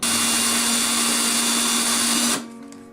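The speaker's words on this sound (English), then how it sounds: "we're going to have to sand it down just like we did before" A 1/4 inch wooden dowel is sanded with a power tool, giving a loud, steady whirring grind that runs unbroken for over two seconds and then cuts off abruptly, leaving a faint hum.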